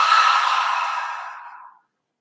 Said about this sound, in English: And a fuller exhale.